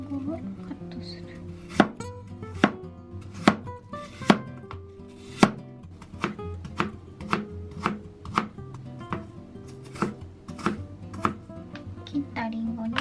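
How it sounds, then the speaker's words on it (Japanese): A knife cuts through an apple on a board in a steady run of sharp, close chopping knocks, about a dozen distinct strikes spaced unevenly, with no talking. "で、リンゴをカットする。"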